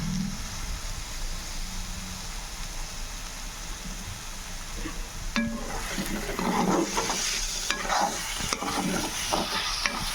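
Masala being fried and stirred for a cashew paneer curry, a steady sizzle giving way to busier scraping and clattering of a spoon in the pan, close and fairly loud.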